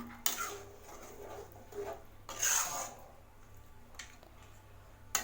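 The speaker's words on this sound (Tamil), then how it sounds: "சுற்றி வர இருக்கிறதெல்லாம் எடுத்து விட்டு நல்லா மிக்ஸ் பண்ணி விடுங்க." A spoon scrapes and stirs coconut chicken gravy in a pan, giving intermittent metallic scrapes and soft rubbing strokes with a few sharper clinks against a quiet background.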